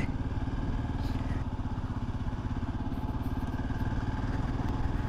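A scrambler-type motorcycle rides along a village road, its mid-pitched engine thrumming in a steady, rapid pulsing beat close by, with no one talking over it.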